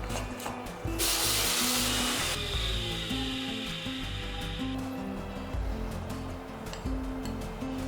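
An electric grinder pulverises dry urad dal, fennel seeds and radhuni with salt, starting in a loud whirring burst, then settling into rough, pulsing grinding punctuated by repeated motor hums and rattles.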